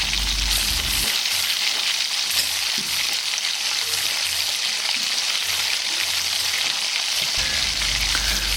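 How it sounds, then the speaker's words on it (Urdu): Three large sliced onions frying in half a cup of oil in a kadai for kofta curry masala, a loud, steady, close sizzle with faint stirring scrapes throughout. "پیاز کو ہم اچھی طرح سے فرائی کر لیتے ہیں۔"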